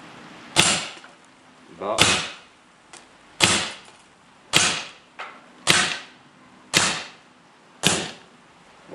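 Legal self-defense launcher fitted with a barrel extension firing seven sharp, loud shots at roughly one-second intervals, each crack followed by a brief decaying tail, with a faint voice briefly between.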